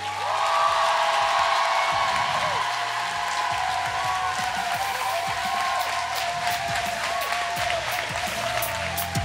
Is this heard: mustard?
no